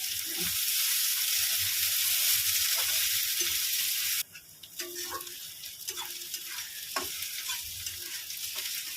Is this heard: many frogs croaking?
no